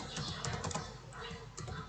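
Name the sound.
typing on a computer keyboard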